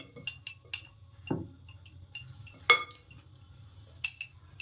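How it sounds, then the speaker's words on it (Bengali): Flour, cardamom, fennel and salt being mixed by hand in a bowl for jaggery-sweetened teler pithe batter, heard as scattered light clinks and taps of utensil against dish with soft rustling, close and quiet, no talk. "ময়দা, এলাচ, মৌরি, স্বাদ মতো লবণ দিয়ে মাখিয়ে নিলাম।"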